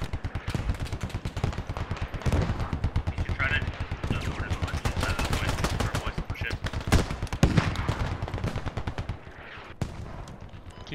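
Sustained gunfire in the tactical shooter Squad, a US Marines versus insurgents battle at Al Basrah Airport: rapid automatic bursts and single shots crack loudly and almost without pause throughout, with voices faintly mixed in.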